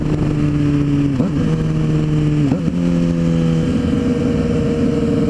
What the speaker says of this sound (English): you'll know how much you need to blip the throttle while you pull in the clutch